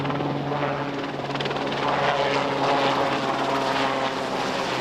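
An RAF helicopter flies past with a steady, loud rotor thrum and turbine whine that holds without a break throughout, with no voices.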